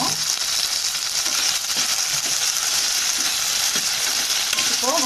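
Small onions sautéing with salt in a pan for chutney, a steady close sizzle with occasional stirring scrapes throughout, no voices.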